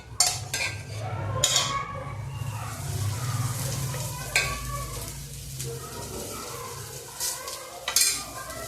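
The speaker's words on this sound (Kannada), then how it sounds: "ಎಣ್ಣೆ ಹಾಕಿ ಬೇಯಿಸ್ಕೋಬೇಕು ರೀ." A chapati cooks in oil on a hot tava with a steady low sizzle, while a utensil scrapes and clinks against the pan in repeated sharp strokes, close by.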